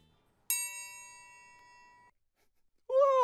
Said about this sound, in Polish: Choć trójkąt wydaje z siebie ten naprawdę piękny